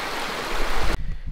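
Water rushing through Big Crystal Creek, a loud broadband wash of flowing water that cuts abruptly to a duller, quieter rumble partway through, with no talking.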